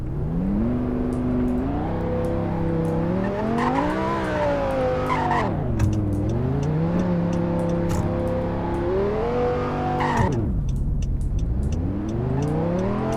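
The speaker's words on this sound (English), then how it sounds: "it has a very realistic startup sound," A Roblox video game car drives around, its simulated engine tone rising and falling through gear-like sweeps with repeated revving, loud and continuous, plus brief tire-skid sounds and no talk.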